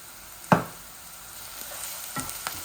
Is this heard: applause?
no